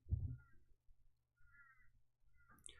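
Crows cawing outdoors, a few harsh calls at moderate distance with short gaps between them, heard alone without talk.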